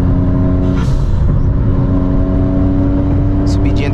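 A VW Up with a 1.0 TSI engine, stage 2 tune and Golf GTI-style exhaust climbs a hill, its engine holding a steady, loud, close drone with a faint rise in pitch.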